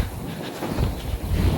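Strong wind gusts buffet the microphone on an open shore by the sea, a steady low roar swelling louder in bursts toward the end, with no talking.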